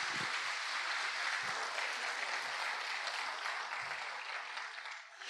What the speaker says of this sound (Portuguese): Então dê uma forte salva de palmas para Jesus.